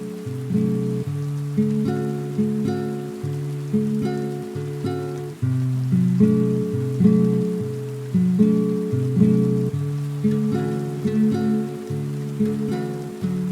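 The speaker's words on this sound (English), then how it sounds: "listening to the rain fall softly against the glass" Soft rain falling against window glass on a quiet evening, a steady gentle patter. A low, repeating tonal backdrop runs under it throughout, with no talking.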